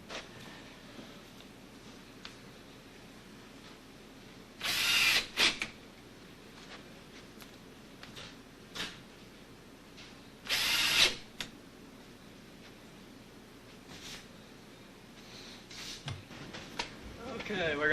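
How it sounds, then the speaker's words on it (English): A power drill bores holes through a wooden top pattern fixed to a door, two short bursts of drilling standing out over quiet room noise, each lasting under a second, with light handling clatter between them. "We'll drill a hole in each side so that we can set it to the door."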